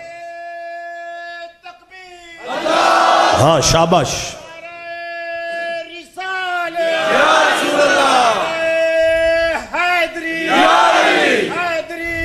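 A crowd at an Urdu-language religious gathering shouts a slogan in unison in about three loud, close bursts, each a sustained chorus of voices, with a single voice speaking between them.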